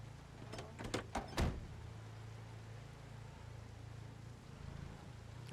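Car doors in Project Zomboid, several quick thuds and clunks of opening and shutting in close succession early on, followed by a steady low engine-like hum.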